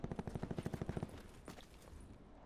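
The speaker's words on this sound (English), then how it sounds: "that was the best headshot sniper shot I've ever done with a VKM" Gunfire from a VKM rifle in a shooter game: a rapid, evenly spaced string of about a dozen loud shots in the first second, then a single sharper crack with fading echoes.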